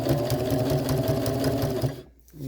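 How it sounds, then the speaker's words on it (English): A sewing machine stitches quilt sashing at a half-inch seam, running in a fast, steady close-up mechanical rhythm before stopping abruptly near the end. "I'm just going to stitch all the way down here at 1/2 inch."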